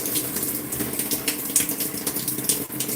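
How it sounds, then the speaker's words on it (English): Tap running while hands are rinsed under it, a steady close hiss of flowing water with small splashy fluctuations throughout. "now I'm going to rinse my hands."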